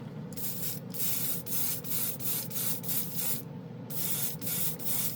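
An airbrush with a 0.28 mm needle at 20 psi sprays alcohol ink onto plastic in a series of short, rhythmic hissing bursts, close and fairly quiet, with a few longer sprays and no talking.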